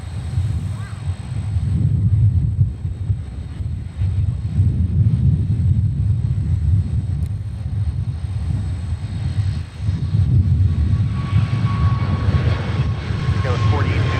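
Airplanes depart one after another at Minneapolis–Saint Paul airport, a loud, rolling low engine rumble that surges and dips, heard over radio chatter and talking.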